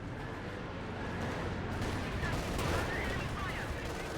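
Katyusha rocket artillery firing in a Company of Heroes 2 match sets off a dense, rumbling barrage of overlapping launches and blasts that stays fairly quiet and continuous for the whole stretch.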